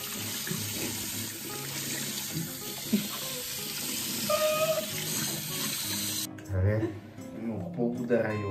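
Tap water runs steadily into a sink in a home kitchen, a continuous splashing hiss, while people talk over it and it briefly changes as the flow is disturbed.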